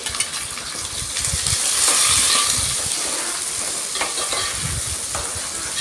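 Sliced onions and green chillies fry loudly in hot oil, a dense continuous sizzle with scraping and clinking from stirring throughout.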